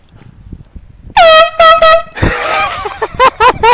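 A prank air horn blares in several loud, close blasts: two long honks, then a burst of shouting, then a quick series of short toots.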